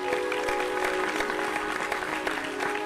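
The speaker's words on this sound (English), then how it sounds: "Another round of applause." Steady applause from an audience fills the space, with dense clapping continuing throughout at a moderate, even level.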